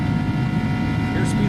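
Airbus A300-600F jet engines at takeoff power in X-Plane 11 give a steady, loud roar with a layered tonal whine, while a voice talks over it.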